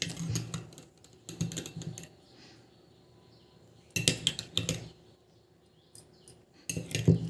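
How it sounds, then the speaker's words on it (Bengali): A spoon stirs and clinks against a bowl while coffee powder, coconut oil and aloe vera hair oil are blended, with bursts of scraping and tapping separated by quieter pauses and no talking. "তা দেখো সব উপকরণগুলো কিন্তু আমি ভালো করে এবার মিশিয়ে নেব।"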